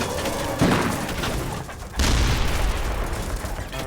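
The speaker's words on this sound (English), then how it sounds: "We're firing the cannon, firing a lot of cannon rounds." Tank cannon fire in Vietnam jungle combat, 90mm rounds: two heavy booming blasts about a second and a half apart, each followed by rumbling decay and crackling noise.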